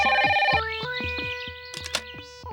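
A telephone rings with a melodic electronic tone, looping loudly and close by. The rising beeping notes repeat in quick succession, and no one speaks over the ring.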